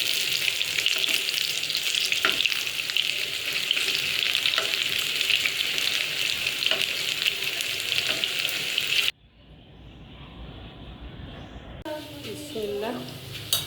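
Food fries loudly in hot oil in a wok, a steady, dense sizzle for several seconds, then it cuts to a much quieter scene where a voice briefly speaks.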